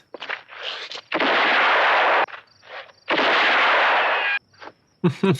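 Gunshots from the western film For a Few Dollars More ring out as loud, echoing blasts, two long reverberant bursts with quieter shots between, and a voice speaks briefly at the end.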